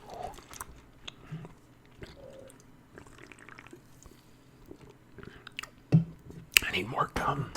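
Close, intimate gum chewing with wet smacks and soft clicks, steady at first and louder near the end, with quiet whispered talk around it.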